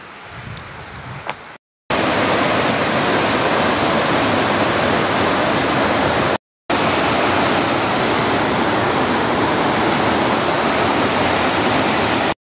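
Water pours over the Tai Tam Reservoir dam in Hong Kong after rain, a loud, continuous broadband rush that fills the scene, briefly cut off twice before resuming at full strength.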